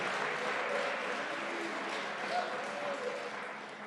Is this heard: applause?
yes